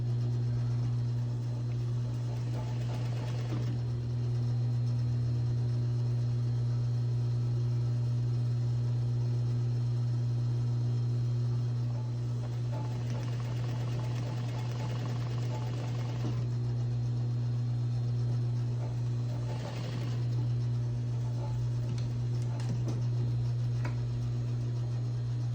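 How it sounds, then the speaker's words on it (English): A sewing machine stitching a jumpsuit through two fabric layers, a steady low motor hum running throughout with faint stitching rattle rising in a few longer runs. "So you're stitching through 2 layers"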